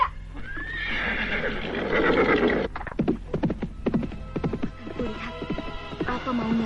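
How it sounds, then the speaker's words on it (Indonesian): Horses being reined to a stop, a long loud neigh followed by a burst of clip-clop hoofbeats and snorts, close and prominent over a low hum. "Mereka menghentikan kudanya"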